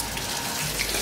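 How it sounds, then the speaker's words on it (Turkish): Shower running in a hotel room bathroom during a seaside holiday, a steady broadband hiss of spraying water that stays even and continuous throughout, with no voices present. "Duş alıyor şu an orada"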